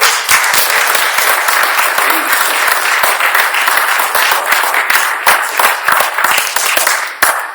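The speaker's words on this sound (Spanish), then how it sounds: "Dale un aplauso al Señor." Loud, sustained applause from a church congregation during a sermon, dense, overlapping clapping that carries on for several seconds with scattered sharper claps standing out.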